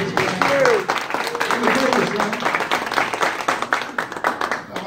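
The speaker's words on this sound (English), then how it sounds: "Give him a round of applause." Clapping and cheering from the audience at a free comedy show at the East Orange VA Hospital, loud and close, with a voice speaking over the ragged, uneven applause.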